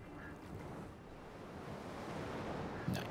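Ocean surf in the video game Horizon Forbidden West rolls as a broad, steady wash of noise that swells slightly, ending in a brief crash near the close.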